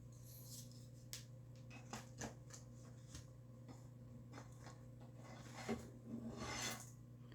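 Small knife scraping scales off a fish, quick faint rasping strokes in irregular bursts over a low steady hum, close up.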